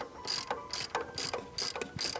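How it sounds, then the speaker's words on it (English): Close ratchet clicking in a few quick bursts while a T30 bolt is removed from the intercooler of a BMW M5 (F90), with short pauses between the runs of pawl clicks. "you need to remove this bolt over here"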